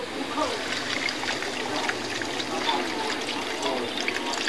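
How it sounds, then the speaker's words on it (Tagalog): Water poured into a cooking pot, a continuous close hissing trickle and splash that holds steady for several seconds with no pause. "Terus lagyan ng water."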